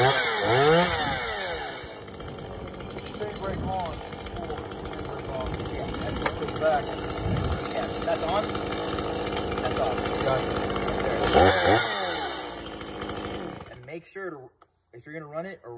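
A Stihl Rollomatic E Mini chainsaw runs loud and close, its engine whining steadily and rising in revs before it cuts off near the end.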